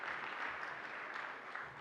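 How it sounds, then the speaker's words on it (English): A room of guests at an awards luncheon breaks into steady, dense applause that fills the short stretch without pause, close and even in level. "let's start by giving you guys a round of applause for being here this week"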